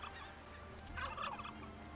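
A turkey mount in the MMO game Eden Eternal lets out a gobbling call midway, a brief warbling burst over a low, steady game background hum, with no speech.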